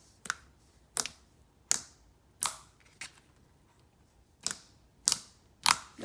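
Glossy, clicky slime squished by hand, giving eight sharp, crisp clicks and pops in an uneven rhythm, each separated by brief quiet, close and fairly loud with no talking.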